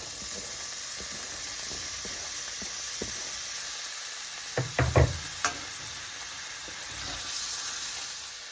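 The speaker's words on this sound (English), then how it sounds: "We've got us some sizzly roasted garlic oil, to which we are going to add about a half of a chopped onion." Chopped onion going into sizzling roasted garlic oil in a pan, a steady close hiss with a few knocks as the onion lands and is stirred.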